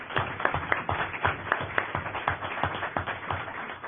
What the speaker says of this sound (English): So please join me giving Professor Guest a round of applause.